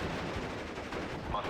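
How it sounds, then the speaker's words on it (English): A 3-inch mortar lays down smoke rounds in the WWII strategy game Steel Division: Normandy 44, heard as faint, muffled thumps and rumbling gunfire in the distance beneath a low battlefield wash. "We'll get some more smoke down with this 3-inch mortar."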